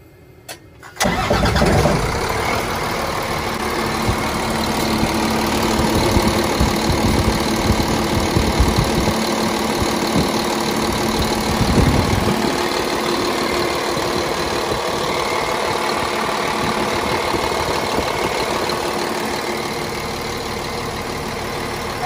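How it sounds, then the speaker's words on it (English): A Cummins ISL 9 diesel truck engine cranks and catches with a sharp start, then settles into a steady, loud, rough idle that runs on without interruption. "start the engine and check for leaks"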